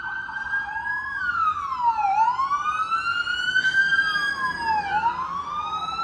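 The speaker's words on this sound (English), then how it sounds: "Sirens are ablazing here." A wailing emergency siren sweeps up and down repeatedly on Yonge Street in Midtown Toronto, loud and continuous, with a second siren layered over it and steady street rumble beneath.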